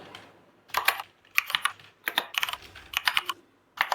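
Someone types on a computer keyboard while working in an Excel spreadsheet, with quick clusters of crisp clicks separated by short pauses, close and clear with no talking.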